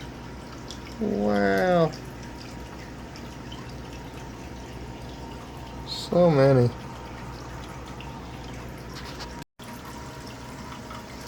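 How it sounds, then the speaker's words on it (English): Water drains steadily out of a blue jelly shrimp tank that has sprung a leak, making a constant low wash throughout while a person talks briefly twice over it. "Water's draining out"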